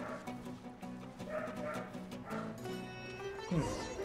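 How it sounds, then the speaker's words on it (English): A pet dog barks and whimpers in the background of a home room, with short yips scattered through game music from Genshin Impact playing on a PS4 and a voice talking over it. "Oh, you may hear my dog in the background."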